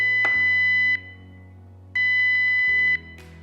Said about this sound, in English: red with the sounder to show that there is an alarm occurring